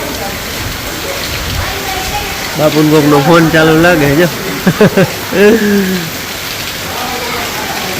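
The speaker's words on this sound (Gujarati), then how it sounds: "ગાજ વીજ પવન વરસાદ બધું હે ભેગું" Heavy rain pours down steadily on a village at night, a dense even hiss throughout, while someone speaks briefly over it in the middle.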